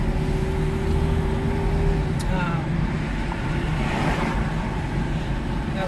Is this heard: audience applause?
no